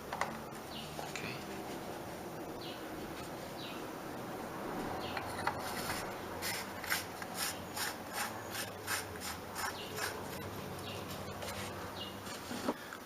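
The oil filter housing cap on a VW Jetta MK6 is screwed down by hand, producing a rhythmic series of faint rasping ratchet clicks over steady background hiss.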